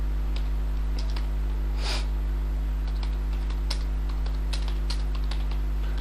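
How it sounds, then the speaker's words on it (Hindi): Irregular clicks of typing on a computer keyboard while entering text in Notepad, sparse keystrokes and a few louder taps over a steady low electrical hum, close up with no speech. "सबसे पहले हम लोग टाइपिंग स्टार्ट करते हैं"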